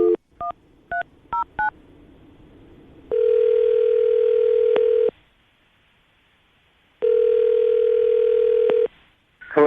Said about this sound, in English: All right, I'm going to call him right now and see if we can get him on the phone,